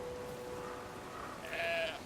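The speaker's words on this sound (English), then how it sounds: "Gotta carry that sheep." A sheep bleats briefly near the end in the video game Brothers: A Tale of Two Sons, a short nasal cry over a faint steady game background tone.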